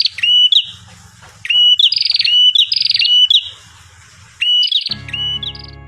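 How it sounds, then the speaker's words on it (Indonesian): Prinia (perenjak) bird singing loudly and close, repeated bursts of bright chirping trills with short pauses between phrases, over a faint low background hum. "saat burung perenjak berkicau begitu santer"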